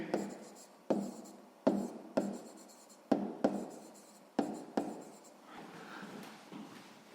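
A pen scratches across paper while working a sixth-grade math exercise, in short repeated strokes about every second, close and quiet.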